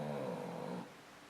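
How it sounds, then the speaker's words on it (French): A dog snoring close by: one drawn-out, rumbling snore lasting under a second, then fading into quiet room tone. "c'est mon chien qui est en train de ronfler"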